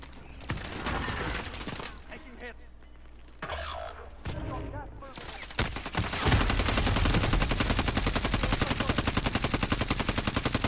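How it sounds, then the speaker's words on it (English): Gunfire from Kilo and Bison weapons in the video game Call of Duty Warzone: scattered loud shots and bursts early on, then a sustained rapid automatic stream of evenly spaced shots filling the second half, close and dense. "the guns I'm using is the Kilo and the Bison"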